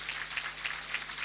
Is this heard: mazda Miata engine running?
no